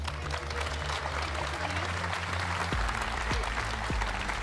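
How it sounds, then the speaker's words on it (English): A live audience at a Gran Turismo World Series esports event in Berlin breaks into sustained, dense applause that stays loud and even throughout, with faint low hum beneath. "Please give him a big round of applause."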